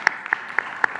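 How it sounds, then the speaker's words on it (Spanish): Short scattered claps from an audience at a press conference, a few sharp separate hand claps rather than full sustained applause. "Un aplauso"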